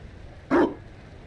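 One short, loud dog bark from the video game Dragon Age: Inquisition rings out alone against a quiet background.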